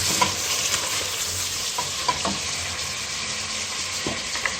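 Chicken frying with browned onions in a pan makes a continuous close sizzle, punctuated by intermittent scrapes and taps of stirring.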